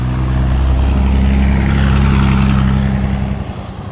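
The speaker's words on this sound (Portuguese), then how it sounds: "O assobio do motor era inconfundível." Turbocharged engine of a Mercedes-Benz O362 monobloc bus droning loud and steady with a sustained whine, close by, fading slightly toward the end.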